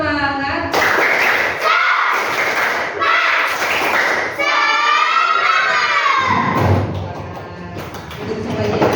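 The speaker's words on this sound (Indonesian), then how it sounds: "Tepuk semangat." An Indonesian classroom of children stands and performs the tepuk semangat spirit clap, sharp rhythmic claps in patterned bursts alternating with loud unison chanting and shouting, close and energetic.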